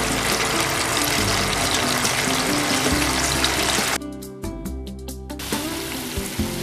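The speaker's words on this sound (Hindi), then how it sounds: "सिरप में अच्छे से उबाल आ चुका है।" A pot of sugar, water and salt syrup for khaman dhokla boils hard, a loud, steady, close bubbling roar that softens and thins partway through, with no talk.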